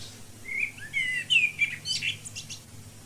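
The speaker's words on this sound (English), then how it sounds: "It is sweet on awakening in the early morn to listen to the small birds singing on the tree." Small birds singing in a tree in the early morning, a quick series of high chirps and twittering notes at moderate distance over a faint low hum.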